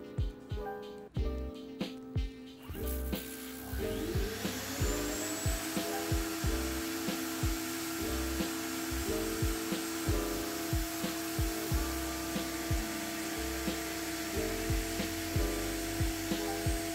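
A power drill whines and bores in short repeated bursts through kitchen cabinet wood for new handles, its motor pitch rising and falling with each push.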